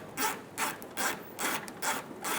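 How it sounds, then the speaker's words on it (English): A ratchet cranks bolts into a side bumper bracket on a 2014-2018 Chevrolet Silverado 1500, giving six evenly spaced bursts of rapid clicking, close and fairly loud, with no talk. "Install the bolts on the side of the bumper fascia."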